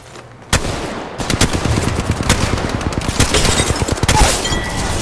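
Rapid automatic gunfire in an Apex Legends match, dense bursts of shots close and loud, running continuously after a brief quiet start.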